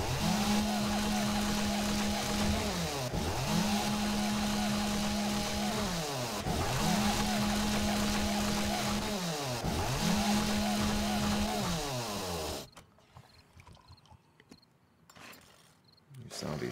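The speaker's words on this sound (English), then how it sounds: "Well, you can just chew right through these things with the chainsaw." Chainsaw in the game 7 Days to Die cutting through material, a loud buzzing motor in repeated strokes of about three seconds each, each ending in a dip, then stopping abruptly near the end, with no talk over it.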